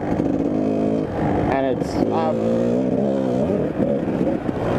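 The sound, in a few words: Kawasaki KDX 200 two-stroke dirt bike engine revving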